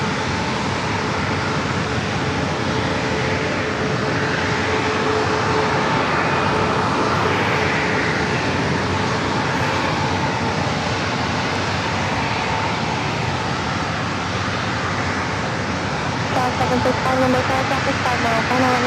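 Southwest Boeing 737 MAX 8 jet taking off from San Diego airport, a sustained broad roar of jet engines that swells slightly and holds steady for nearly twenty seconds, heard from a distance.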